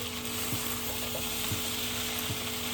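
Pineapple fried rice being stir-fried in a pan gives a steady, close sizzle with a few soft stirring scrapes. No one speaks.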